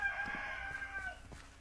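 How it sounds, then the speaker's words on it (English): Chickens outdoors, rowdy, with a rooster crowing in long drawn-out calls over scattered clucks, heard fairly faintly as if through a wall or from outside. "Sorry for the chickens, if you can hear those outside."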